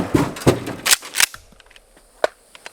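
Shotgun loaded with buckshot fired outdoors, a few sharp blasts in quick succession with mechanical clacks of handling between them, followed by quieter clicks.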